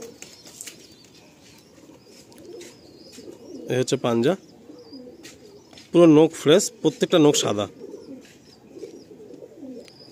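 A female pigeon in a loft gives a few short bursts of close cooing and brief wing flutters, with someone talking quietly in between.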